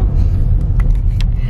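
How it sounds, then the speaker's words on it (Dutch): Heavy traffic of many cars driving past together on a busy road in Mallorca, a loud continuous low rumble of engines and tires with a few passing swells, close and without speech. "Oh mijn god, alle auto's in één keer."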